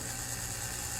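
The small electric motor of a model train engine, removed from its shell for repair, runs at full speed in reverse with a steady, close buzzing whir and faint mechanical rattle, alone and unbroken.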